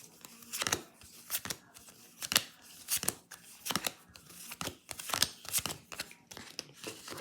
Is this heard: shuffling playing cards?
yes